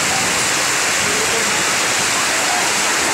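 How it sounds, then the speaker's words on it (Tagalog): Fast-moving floodwater roars in a steady, dense rush, loud and close, with no break. "Malakas yung tubig."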